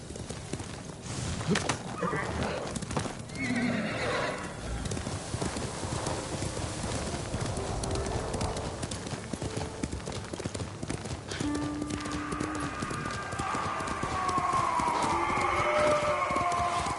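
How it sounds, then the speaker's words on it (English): A horse in the video game Ghost of Tsushima clip-clops steadily on its hooves throughout, with a whinny near the start and rising tonal game sounds toward the end. "Horse!"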